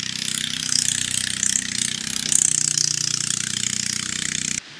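A boat motor runs steadily close by with an even, rapid rumbling pulse and a bright hiss above it, then cuts off abruptly near the end.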